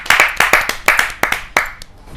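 Scattered hand claps from a small audience at a Hindi poetry gathering, sharp and close, in uneven bursts that thin out and fade within a couple of seconds.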